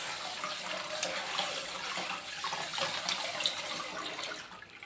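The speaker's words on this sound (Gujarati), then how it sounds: "ચાલુ પાણીએ પણ આપણે ધોઈ શકો છો. જો આ રીતે ધોઈ નાખો એટલે ધોવાઈ જશે આ ચિપ્સ" Running water splashes steadily from a tap onto chips in a sink, a continuous close, bright rush with small irregular splatters.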